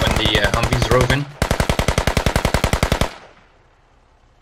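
Automatic gunfire in the military shooter Squad: two rapid, evenly spaced bursts, loud and close, with a short pause between them before the shots cut off into quiet.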